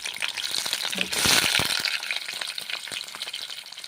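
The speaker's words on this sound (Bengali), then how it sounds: "পনির ছেড়ে দিচ্ছি গরম তেলে।" Paneer sizzles and crackles as it drops into hot oil, a dense, steady frying hiss with a louder burst of spitting early on, then a continuous bubbling sizzle sprinkled with small pops.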